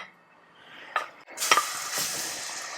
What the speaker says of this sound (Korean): 삶기 전에 제가 이제 들기름에다 마늘을 살짝 볶을 거예요